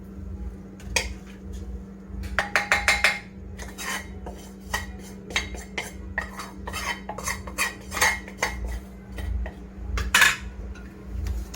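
A metal utensil scrapes and taps against a kadhai as roasted gram flour is moved onto a plate, producing rapid clustered scrapes and clinks with short pauses, close and moderately loud over a low steady hum.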